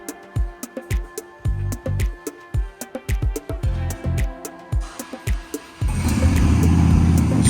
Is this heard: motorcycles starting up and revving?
yes